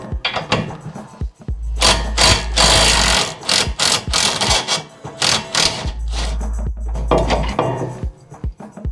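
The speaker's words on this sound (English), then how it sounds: "let's go underneath and undo the last 15mm bolt" A 15mm bolt being undone under the suspension of a Mk1 Ford Focus: loud, close bursts of a powered rattling tool in two long runs, with clanks and mechanical knocks between them.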